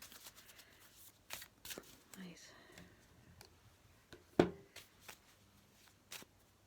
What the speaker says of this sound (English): Angel cards. Okay, so I'm just going to shuffle these up there.